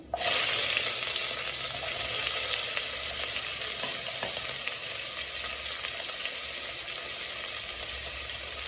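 Chopped onion drops into hot oil with garlic, cinnamon, cloves, cardamom and bay leaves for a pressure-cooker chicken biryani, setting off a loud, steady sizzle with occasional stirring scrapes and no talk.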